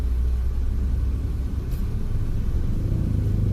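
Road traffic in a traffic jam: a dense, steady low rumble of idling and creeping vehicles, continuous and fairly loud, with no distinct horns or voices.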